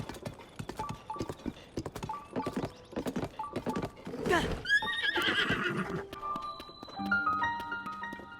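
Horse in Zelda: Tears of the Kingdom galloping with rhythmic hoof clip-clops, then a loud whinnying neigh midway, followed by game chimes and tones; close and clear.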